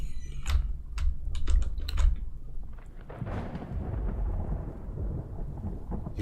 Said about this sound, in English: You can hear the keys.